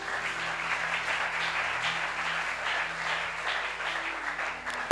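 A church congregation claps and applauds together, a steady, even wash of hands lasting several seconds with no talking over it.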